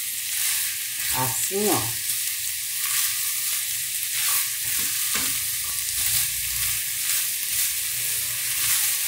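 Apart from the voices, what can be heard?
pork loin frying and being stirred in pan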